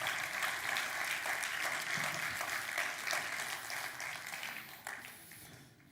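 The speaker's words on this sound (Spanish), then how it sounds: "Denle un aplauso al Señor por eso." Congregation in a church service applauding the Lord, a dense, steady wash of many hands clapping together, sustained at a fairly loud level before thinning and fading toward the end.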